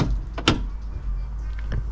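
A car door on an abandoned 1962 Cadillac barn find is swung shut, a close solid thump with a few smaller knocks and rattles around it.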